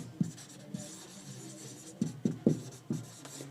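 Pen or marker writing on paper or board while naming a chemical compound in a chemistry lesson, heard as several short scratchy strokes in uneven bursts, close and fairly quiet, with no talk over it.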